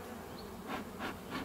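A swarm of honeybees buzzing as they are blown on before being shaken into a hive, a dense close hum with soft puffs of breath surging through it.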